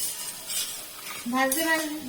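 Pui mituli (Malabar spinach stems) with chili powder stirred in a pan over low heat, soft sizzling with spoon scrapes and light clinks against the pot, brief and close with no voices.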